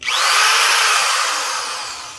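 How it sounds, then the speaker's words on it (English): An older high-torque, low-speed power drill polishing an aluminum wheel spins up abruptly into a loud, steady whine, then slowly winds down over about two seconds. "This is the drill I used before."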